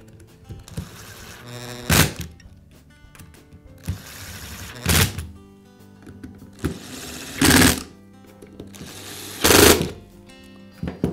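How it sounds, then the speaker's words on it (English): Cordless DeWalt drill housing being secured with a few screws, giving four loud, spaced bursts of driver whirring with clicks and handling noises in between. "Now I'll go ahead and secure just a few of the screws."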